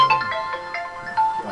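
A phone ringtone plays a short, bright electronic melody of several quick tones, fairly clear and close, running the whole moment with no talk over it.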